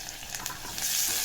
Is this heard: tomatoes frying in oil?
yes